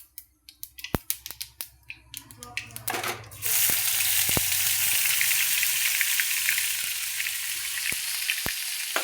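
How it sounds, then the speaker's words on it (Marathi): Cumin and mustard seeds spluttering in hot oil: sharp popping crackles at first, then a steady loud sizzle with scattered pops over it, no talking. "असं जिरे मोहरी चांगली अशी मस्त असे फुटू द्यायचे बघा."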